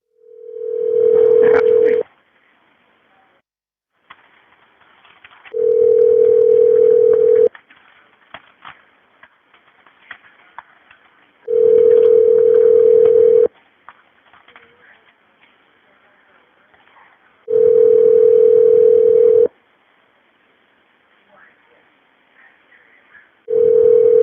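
A telephone ringback tone repeats five times at even intervals, each a loud steady burr lasting about two seconds, followed by a quieter gap with faint background sounds, as a call waits to go to voicemail.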